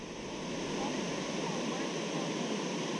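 Water rushing steadily at Worthfield Dam on Randleman Lake, a broad, even roar of flowing water close by, with a voice faintly audible at times.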